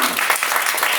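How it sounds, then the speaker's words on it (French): Applause in a film scene about theatre fame: a short, dense burst of many hands clapping, loud and continuous. "Applaudissements"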